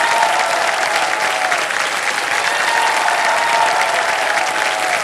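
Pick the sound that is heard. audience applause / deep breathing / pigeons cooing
audience applause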